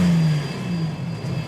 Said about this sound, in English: It's revving slightly, but I'm not doing it.